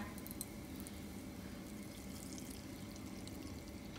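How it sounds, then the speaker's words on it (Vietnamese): Clear pandan leaf water being poured off, a steady close trickle of liquid that runs evenly and fairly quietly throughout. "mình rót bớt ra cái phần nước trong nè"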